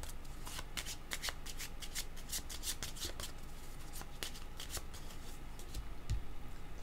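Tarot cards shuffled by hand in a steady run of crisp riffling flicks and brief card slaps, close and fairly quiet, with no talking.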